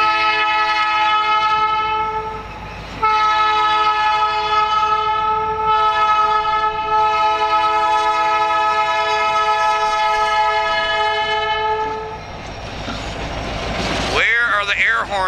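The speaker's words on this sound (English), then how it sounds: "Escanaba, Lakesville Railroad 503, coming south" Escanaba and Lake Superior Railroad freight train 503 heading south on a morning, its air horn sounding long sustained chords close by, broken by a short gap, then fading as the wagons rumble past.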